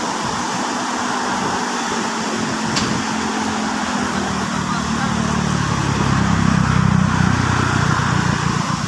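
Return-flow holiday traffic builds on the Jakarta–Cikampek toll road near kilometre 60, a continuous broad roar of passing vehicles that grows slightly louder toward the end, with a person talking over it.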